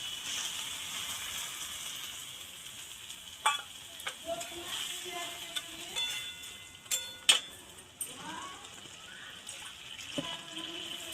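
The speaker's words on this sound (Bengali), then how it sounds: "এবার দিয়ে দেবো জল।" Water poured into a spice paste frying in a pan for a shrimp and banana flower ghanta, with a quiet sizzle, scattered stirring scrapes and short bursts of bubbling.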